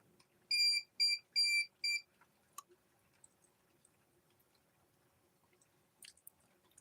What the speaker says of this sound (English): Raindrops are triggering my alarm.